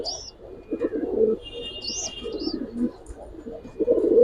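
Pigeons at a Bangladeshi pigeon seller's, Giribaz, Silver Makhra, Musaldom and Army breeds, coo in repeated low rolling phrases, close and fairly loud, with brief higher chirps from other birds mixed in and no talking.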